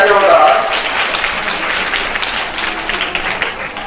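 Loud, close applause from an audience honouring a drama team after a stage play, swelling at the start and then holding as a dense wash of clapping, with voices audible underneath.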